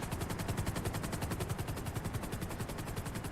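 Rapid automatic gunfire aimed at a helicopter in the video game GTA V, a dense unbroken stream of shots with a faint rotor-like drone beneath.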